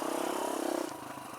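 A Kawasaki KLX140 dirt bike, freshly fitted with a new carburetor, idles with a rapid even putter for a moment before the engine note drops and roughens.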